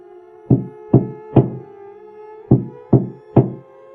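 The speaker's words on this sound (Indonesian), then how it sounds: "dia dibangunkan dalam tidurnya oleh suara ketukan dari jendela kamarnya." Sharp knocks on a window, three quick raps, a short pause, then three more, clear and close in a quiet room.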